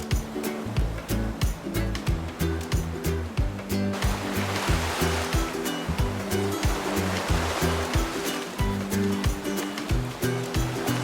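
Sea waves breaking on a beach on a hot day with a cool sea breeze, a continuous rushing surf that swells and recedes, loud and close, with rhythmic low thuds, likely hooves, underneath.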